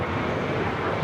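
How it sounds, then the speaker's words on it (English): A Boeing 737 rolls down runway 25 right at LAX, heard as a dense, steady roar of jet engines that stays even and loud through the whole moment. "737 now rolling down the 25 right"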